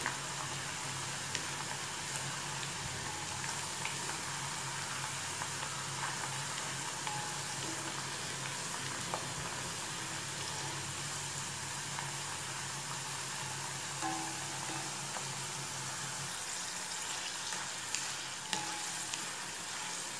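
Jackfruit pieces deep-frying in oil over a medium flame for a crisp fry, a long, even, close hiss of bubbling oil with occasional faint ticks and pops and no talking.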